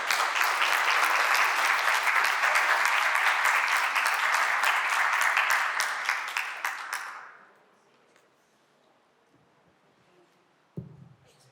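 Audience applause at a Mexican literary event honoring an author, a dense sustained wash of clapping for about seven seconds that then fades out quickly into near silence, with a brief thump near the end.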